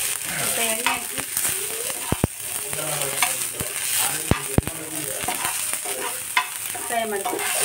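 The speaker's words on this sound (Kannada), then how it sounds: "ಫ್ರೈ ಮಾಡ್ತೀನಿ" Oil frying food in a home kitchen, a steady broadband sizzle running throughout, broken by sharp spatula scrapes and clicks as it is stirred, with faint talk in the background.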